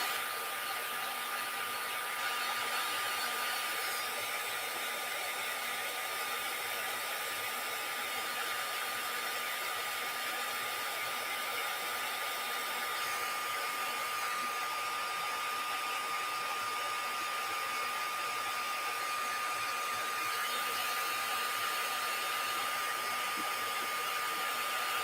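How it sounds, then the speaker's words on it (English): A craft heat tool warms gesso with a constant, loud blowing whir like a hair dryer, running for the whole span with no break and no voices. "I'm going to use my heat tool again. Actually, I'm going to heat up my gesso just a little bit."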